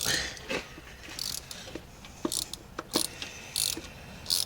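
A ratchet wrench works loose the spark plugs on a 2008 Hyundai Tiburon 2.0L, giving several short bursts of clicking spaced unevenly across a quiet background with no talking.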